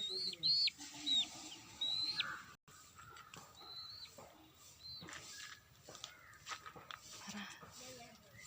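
Young chicks give a few high, thin peeping chirps near the start, then fainter scattered calls over a steady outdoor background murmur.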